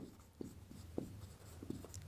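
A few quick taps and scrapes of writing on a board during a chemistry class, three or four short strokes spaced apart, fairly faint over quiet room noise with no speech.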